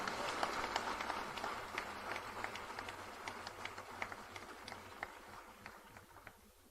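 An audience in a memorial auditorium in Solapur breaks into vigorous applause at a ceremony: dense, steady clapping from a large crowd that fades slightly toward the end, heard from a distance.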